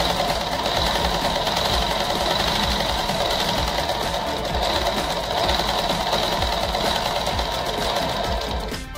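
A sewing machine runs continuously and loudly, double-stitching a petticoat waistband in one unbroken, steady whirring run.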